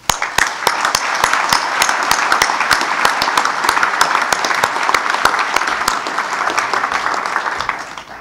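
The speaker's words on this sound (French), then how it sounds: "Nous pouvons les applaudir." Dense, crisp applause fills a room at a New Year's wishes ceremony at the Arles Chamber of Commerce and Industry, with sharp individual claps standing out from the steady crowd clapping for the honorees.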